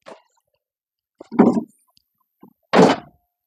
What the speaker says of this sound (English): I'm just gonna drop this fuel tank here.